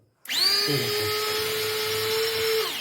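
An electric chopper machine finely chopping onion for chicken manchurian gives a loud, steady high-pitched motor whine. It starts abruptly and holds evenly for over two seconds before winding down.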